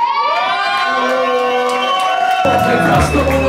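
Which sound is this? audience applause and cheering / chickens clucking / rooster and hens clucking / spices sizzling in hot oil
audience applause and cheering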